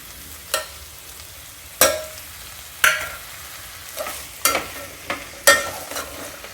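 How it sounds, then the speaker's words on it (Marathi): Mixed vegetables sautéing with salt, home-ground masala, red chilli powder and turmeric for Maharashtrian masale bhat, a soft steady sizzle broken by about six sharp scrapes of a spatula stirring the pan, with no talking. "भाज्या छान परतून झालेल्या आहेत"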